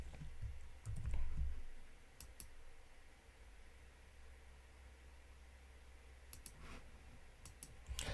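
Typing a login username and password on a computer keyboard: scattered light key clicks in short bursts over faint hiss, with a soft thump near the start and quiet gaps between.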